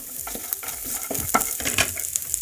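Chopped raw ginger being stirred in a frying pan: soft scraping strokes of a spoon in an irregular rhythm over a light sizzle, fairly quiet and close, with no talking.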